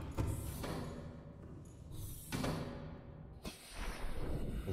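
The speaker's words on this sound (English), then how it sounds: "Power down the engines for now" Cyclops submarine engines winding down in the underwater game Subnautica, a series of low mechanical clunks and whooshing surges that rise and fade in waves, with soft ratcheting noises in between.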